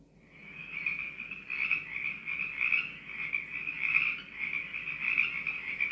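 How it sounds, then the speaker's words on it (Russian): A dense chorus of frogs croaking continuously, a steady pulsing trill that swells and fades slightly throughout, with no voices. "Маруся, включи пение лягушек. Ставлю пение лягушек"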